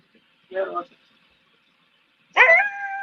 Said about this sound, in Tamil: நாய் கத்துது